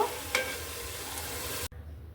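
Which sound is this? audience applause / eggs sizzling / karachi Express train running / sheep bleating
eggs sizzling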